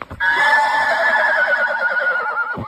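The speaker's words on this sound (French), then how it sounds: "il a entendu les hennissements de Chamaki et il est venu nous rejoindre." A horse gives a loud, close whinny lasting a couple of seconds, its quavering pitch sliding downward, with nobody speaking.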